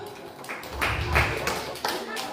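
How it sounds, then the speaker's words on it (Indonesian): Scattered clapping from an audience at a pre-Ramadan evening gathering in a hall. A few loose bursts of hands sound over a murmur of voices. "tepuk tangan buat Neng Eis"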